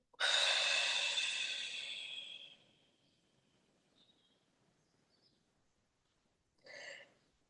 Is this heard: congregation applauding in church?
no